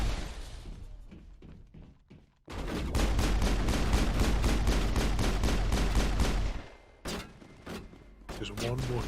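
Rapid bursts of turret gunfire in the Mass Effect video game, a dense sustained volley of repeated shots that stops abruptly, with a few scattered shots before and after.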